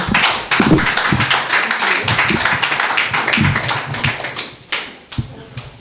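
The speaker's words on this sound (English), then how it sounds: "let's hear a more lusty round of applause for Dr." An audience at an evening talk on Spiritual Baptist politics and poetics gives a loud, sustained round of applause for a speaker, dense clapping with a few louder single claps near the end.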